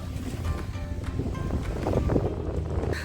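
Sea waves and gusting wind on a sandy beach in Odesa, a continuous loud rush of surf with wind buffeting the microphone throughout.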